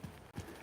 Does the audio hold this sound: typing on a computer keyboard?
no